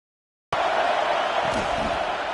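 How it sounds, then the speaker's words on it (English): A college football stadium crowd at a Miami versus Notre Dame game roars for the defense. The loud, dense wash of cheering swells in suddenly and holds steady. "Decibels rising as the crowd gets behind this defense."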